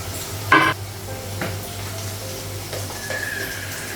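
Spices such as turmeric, salt, chili powder, cumin and cardamom fry in oil in a home kitchen pan, a soft sizzle broken by a few sharp stirring scrapes and clinks.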